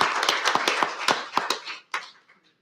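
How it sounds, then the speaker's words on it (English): A small council meeting audience claps for a youth, a few distinct nearby hand claps in a loose, uneven rhythm that thins out and stops. "So another big round of applause for him,"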